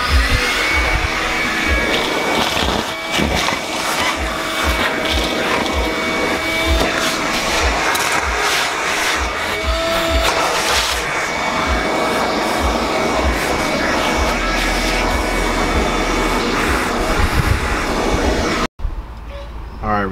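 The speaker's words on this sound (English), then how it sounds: "I gotta vacuum all this shit out of here first" A vacuum cleaner whines loudly and continuously while cleaning out a car interior, with bumps and scraping of the nozzle, before cutting off abruptly near the end.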